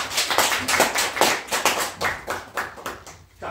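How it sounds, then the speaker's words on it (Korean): Applause from the audience at a sales lecture in a hall: a sustained run of crisp, close hand clapping with an irregular rhythm that gradually thins out toward the end, without voices. "박수 한번 주세요."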